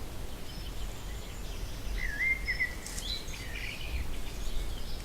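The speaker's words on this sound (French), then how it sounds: "Les petits oiseaux." Small birds chirp outdoors in a few faint, brief tweets scattered over a steady low background hum, with no one talking.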